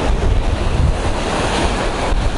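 Sea waves wash against a rocky coastal cove while a strong wind blows across the microphone. The roar is steady, loud and dense, with no voices.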